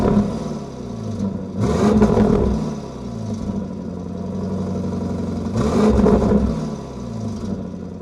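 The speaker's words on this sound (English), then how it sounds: "it also offers quite a better sounding exhaust note" A Porsche Cayenne Turbo GT engine hums steadily, swelling twice into throaty revs from its twin exhaust, with a whirring mechanical tone throughout.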